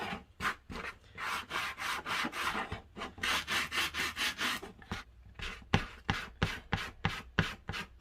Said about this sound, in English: we gotta sand them down a little bit just to add a little bit of a distress, but not too much